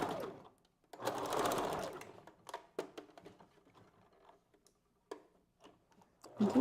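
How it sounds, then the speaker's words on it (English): A sewing machine stitches hair for a wig, first running in a loud steady burst, then continuing in a series of short ticking stitch bursts with gaps between. "We're going to go ahead and start our first stitch and back stitch."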